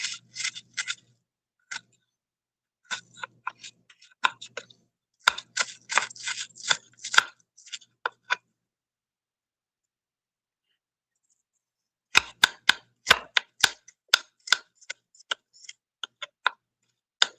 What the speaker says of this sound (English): I use half of an onion, of a red onion. Because I'm cutting this shit real thin